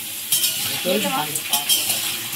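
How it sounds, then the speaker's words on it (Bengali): Potatoes fry in hot oil in a wok, sizzling close up with scraping stirs and a few light clinks of a utensil against the pan. "এর মধ্যে প্রথমে মাংসের আলুটা ভাজবো"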